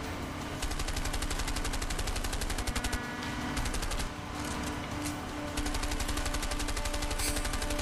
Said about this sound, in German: Ey, schießt du mit Absicht daneben?